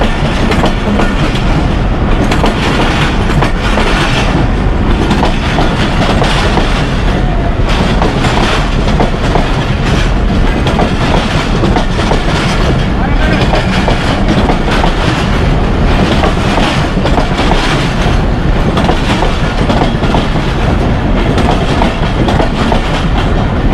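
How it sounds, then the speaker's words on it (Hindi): A train rumbles loudly past a level crossing close by, with continuous rhythmic clickety-clack of wheels over the rails throughout and no speech. "देखना अभी ट्रेन जैसे ही गुजरेगी फौरन शुरू हो जाएंगे सारे।"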